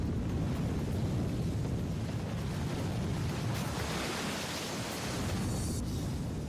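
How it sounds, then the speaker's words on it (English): A collapsing cofferdam at the Three Gorges Dam releases its stored water in a loud, continuous broadband roar of rushing flow, steady and dense throughout with no voices. "As the cofferdam crumbles, it unleashes the water stored behind it."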